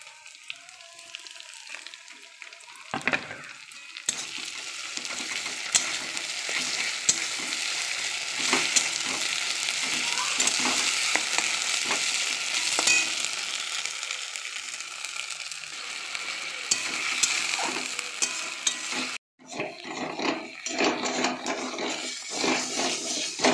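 Onions fry in a pan while they are stirred, a continuous loud sizzle with scraping strokes throughout and a brief break near the end before the hiss resumes.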